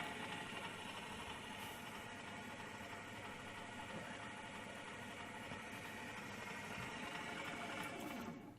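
Small electric motor running steadily at close range for the whole stretch, a continuous mid-pitched mechanical whir with a faint rattling vibration and no talk, cutting off at the very end.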